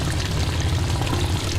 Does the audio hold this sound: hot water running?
yes